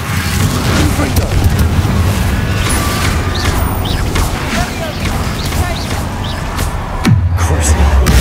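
Confringo fire spell explosions in Hogwarts Legacy, a dense, continuous rumbling barrage of booms and crackles, loud and close, ending with a deeper low thud near the end.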